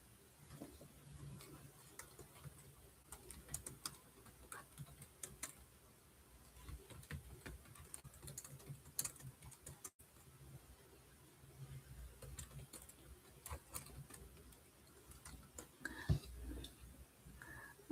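Faint, irregular clicking of keys on a computer keyboard as text is typed, soft and close, continuing through a quiet room.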